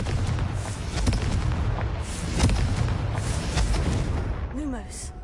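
Confringo blasting spells go off in Hogwarts Legacy, producing a dense run of booming, crackling explosions that rumble continuously, with a short whooshing sweep near the end.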